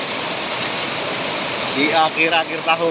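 Heavy rain falls in a steady, dense hiss outdoors, loud and continuous, while someone talks over it near the end.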